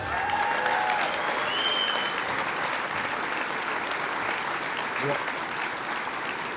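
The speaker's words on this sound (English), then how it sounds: "Can we give them all a round of applause, please?" Audience at a Hall of Fame induction ceremony for towing and recovery gives a round of applause, continuous dense clapping with some faint voices and a whistle near the start.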